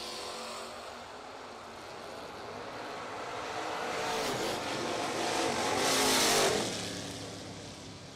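Drag racing pass at a bracket race, an Oldsmobile Cutlass against a Mustang, engines roaring and swelling from a distance to a loud peak as the cars pass, then fading slightly.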